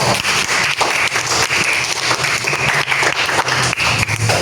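A class of students claps along at a teacher's prompt during a lesson, giving a dense, steady patter of many hands that fills the whole stretch without talk.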